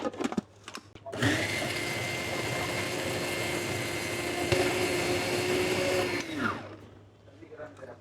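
Kitchen blender whirring as it purées raw chicken for chicken balls, starting abruptly after a few handling clicks, running at a loud steady whine for about five seconds, then winding down and stopping.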